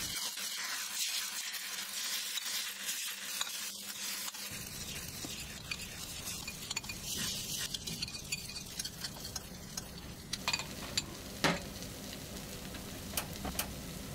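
A clam omelette sizzles quietly in a pan, with irregular light scraping and tapping from stirring throughout.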